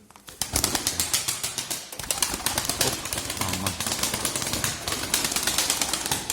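Pigeons in a coop inside a shop, a smoky crested male and a grey female among them, flap their wings in rapid close bursts and coo softly, with a brief spoken exclamation.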